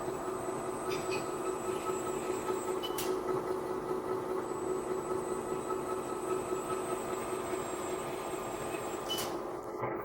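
Small 1/13 scale XD 580 RC model loader driving forward and in reverse, giving a steady whirring electric motor drone with a constant tone, along with a few faint high clicks.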